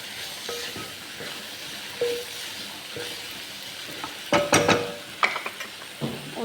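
Masala of turmeric, salt and chili powder being stirred into a cooked dish in a pan: sporadic scraping strokes and metallic clinks over a soft frying hiss, closer and busier near the end.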